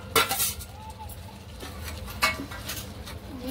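Spoon scraping and clinking in a pan as fried chicken pieces are mixed into butter chicken gravy over a low flame, with a few sharp stirring knocks among soft wet churning, close up and without speech.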